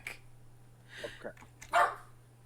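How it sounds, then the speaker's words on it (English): Dog barking indoors, a few scattered faint barks and yips followed by one louder, sharper bark near the end, against a quiet background hum. "I'm gonna BRB because Batman won't stop barking."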